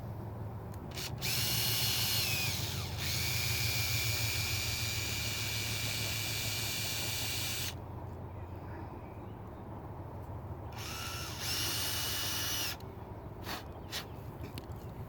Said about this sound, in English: first we need to make hole inside cover, 10 millimeter hole, and I make hole first.